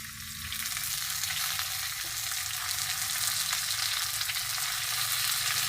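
Radish, beans and other vegetables fry in a pan with a loud, steady hissing sizzle that holds evenly throughout, with no talking.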